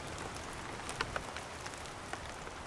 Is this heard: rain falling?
yes